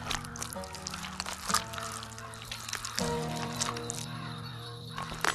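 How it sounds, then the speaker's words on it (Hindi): Several crows caw harshly, overlapping in a shrill, ragged chorus over a dark horror-story sound bed with rumbling tones; moderately loud throughout, no speech. "एक पेड़ पर कई सारे कौवे काएं काएं करते हुए मंडरा रहे थे।"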